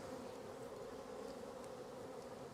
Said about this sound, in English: each of those supers is full of bees. There's a lot of activity here.